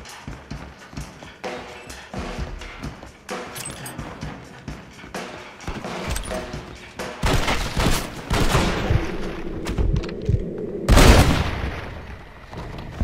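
Pistol gunfire in the western video game Red Dead Redemption, a riverboat rescue mission: a rapid string of shots and loud booms over busy game sound, building to a heavy blast near the end.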